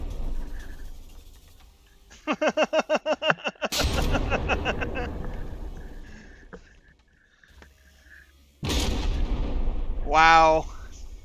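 Battleship guns in the naval combat game From The Depths fire a rapid burst of about eight loud shots, followed by a big booming blast that rumbles on; a second heavy blast and a rising whine come later, with some talk in between.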